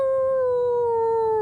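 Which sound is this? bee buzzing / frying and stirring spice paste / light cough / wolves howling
wolves howling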